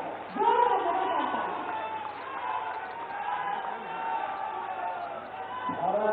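A large crowd at an outdoor highway project inauguration with Yogi and Gadkari claps and cheers in a dense, continuous wash, with an amplified voice speaking over it.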